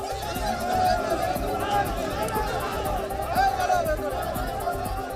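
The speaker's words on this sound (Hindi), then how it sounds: "सैकड़ों लोग नारेबाजी करते हुए आगे बढ़े" A large crowd of several hundred people, a dense roar of overlapping voices and chatter that stays loud and continuous throughout, with no single speaker standing out.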